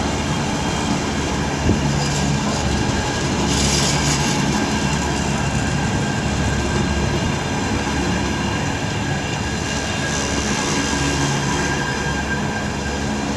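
An Avanti West Coast train rolls into Birmingham International station on the West Coast Main Line, a loud, continuous rumble of wheels and carriages with brief squeals and rattles.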